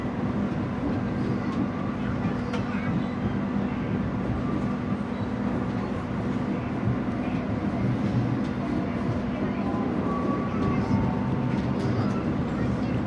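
Inside the Argo Lawu train arriving at Cikampek station, a steady rumbling roar of the moving carriages fills the whole stretch, constant and close, with faint clicks and no clear talk.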